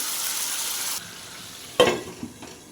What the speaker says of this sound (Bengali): এবার মশলা আর আলু একসঙ্গে কষিয়ে নেব